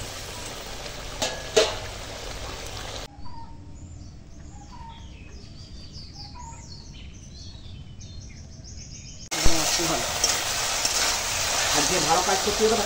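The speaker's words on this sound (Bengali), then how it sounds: "এখন ঝোল ফুটে গেছে আর এই ভেজে রাখা ঢ্যাঁড়স দিয়ে দেবো।" Fried okra and fried parshe fish drop into boiling curry gravy: a bubbling sizzle and stirring clatter at the start and again at the end, with a quieter stretch of birdsong in between.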